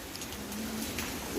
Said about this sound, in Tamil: ரொம்ப நேரமாக மழை வந்துட்டுருக்கு.